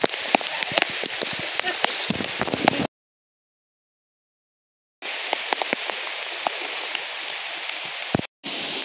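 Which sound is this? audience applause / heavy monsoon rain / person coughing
heavy monsoon rain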